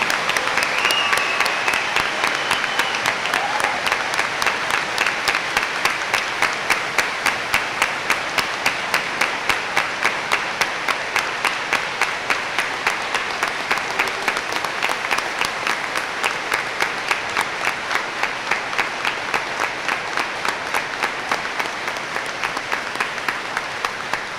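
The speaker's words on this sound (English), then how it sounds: "Let's give a round of applause to these amazing students." At a senior awards ceremony, an audience gives award-winning students long, sustained applause. The thick, even clapping carries a faint rhythmic pulse and continues steadily for over twenty seconds.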